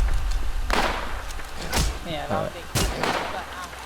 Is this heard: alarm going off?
no